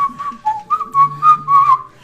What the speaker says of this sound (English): Or I'll start whistling.